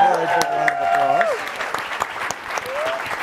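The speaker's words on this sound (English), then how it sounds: "Please give her a big round of applause." A large audience applauds after a public conversation featuring the President and moderator Yara Shahidi, a dense wash of clapping running under a speaker's voice that continues over it.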